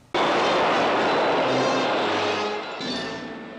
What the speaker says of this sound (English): The flying sub is cruising through the sky on its way to Seaview.